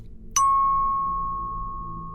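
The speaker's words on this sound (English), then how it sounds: "The bell is calming." A meditation bell strikes once, ringing out clear and close, then holds a pure, steady tone that fades slowly in a quiet room.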